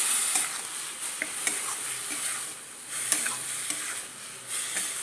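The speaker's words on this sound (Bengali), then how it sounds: "এবার এটাকে একটু নেড়ে নিই" Pumpkin and prawn with salt and turmeric are stirred in a pan, a spatula scraping and knocking in irregular strokes over a continuous close sizzle, with no talking.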